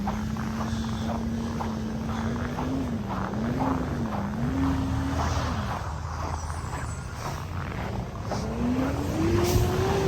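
A garbage truck's heavy engine rumbles continuously nearby on a frigid winter street, its pitch rising and falling as it revs, with a steady low drone throughout.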